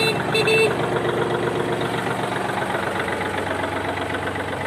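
A Yanmar F210 mini tractor engine idles steadily nearby, a continuous mid-low rumble with a slight knocking texture, a brief higher tone at the very start, and no talking.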